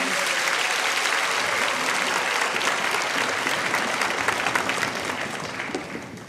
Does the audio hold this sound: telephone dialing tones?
no